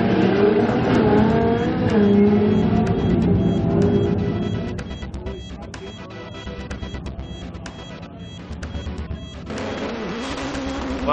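A rear-wheel-drive Nissan Skyline GTST drag car launches and accelerates, its engine roaring loud and close with rising pitch and rapid shifts, then fading slightly as it pulls away down the strip.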